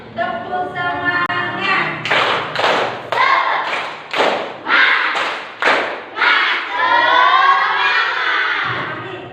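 Children in a classroom performing a rhythmic clapping chant, sharp bursts of claps in a regular pattern alternating with chanted shouted syllables, loud and close.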